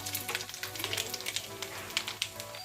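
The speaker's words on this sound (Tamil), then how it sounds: "இப்போ நம்ம கடுகு போட போகிறோம்." Mustard seeds crackle and spit in hot oil in a home kitchen, a quiet, continuous sizzle with scattered sharp pops throughout.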